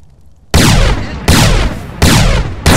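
Four loud, heavy gunshots from headshot kills in GTA San Andreas, evenly spaced about three quarters of a second apart, each with a booming tail that rings out until the next shot.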